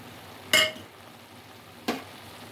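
Chili powder goes into hot oil in a pan, with two sharp metallic spoon clinks against the pan over a faint, steady low sizzle of frying.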